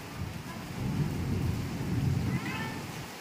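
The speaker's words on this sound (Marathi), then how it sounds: "बाहेर पडतोय पाऊस। ए बाळा ये, अरे बघ गडगडाट" Thunder rumbles low and rolling through a steady rain outside a home, building and swelling over a few seconds with no one speaking.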